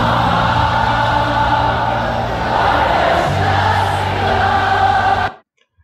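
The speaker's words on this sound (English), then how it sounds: "there are hundreds of people singing at the same time" Hundreds of people sing and chant together in a loud, dense crowd, no single voice standing out, the sustained mass of voices cutting off abruptly near the end.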